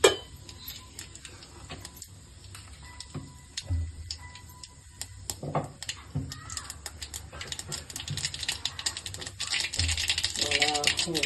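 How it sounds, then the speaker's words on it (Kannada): Mustard seeds and cumin land in hot oil for tempering a brinjal dish, giving a dense, continuous crackle and spatter of popping seeds with clinking utensils, building louder toward the end. "ಈಗ ಸಾಸಿವೆ ಜೀರಿಗೆ ಹಾಕ್ತೇನೆ"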